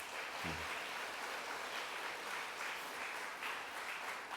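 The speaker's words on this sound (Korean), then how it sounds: "우리 환영으로 박수로 환영하겠습니다." Church congregation applauding to welcome visiting family members from Busan, a steady, soft wash of clapping filling the whole moment, fairly distant and even throughout, with a brief low voice near the start.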